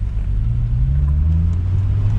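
A steady low engine rumble with a deep exhaust tone from a Hyundai Tiburon fitted with new dual exhausts, the pitch rising slightly as the car gently accelerates, heard close and continuous.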